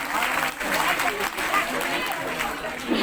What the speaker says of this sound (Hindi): भाई को जोरदार ताली से स्वागत कीजिए।